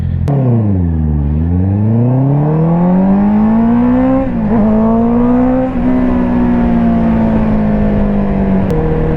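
Honda CBR650R motorcycle engine revving up and down: a loud, close, continuous growl that sweeps low, climbs steadily, dips briefly and holds a high, smooth whine for several seconds, with no voices.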